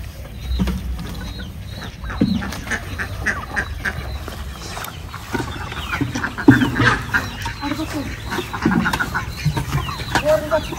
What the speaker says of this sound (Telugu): మళ్ళీ బాతులు వచ్చి ఇక్కడ స్నానం చేస్తున్నాయి.